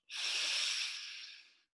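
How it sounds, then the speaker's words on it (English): A single long, forceful exhale in a guided deep breathing exercise, a steady airy rush that fades out gradually, followed by a faint brief click. "Deep breath in and release."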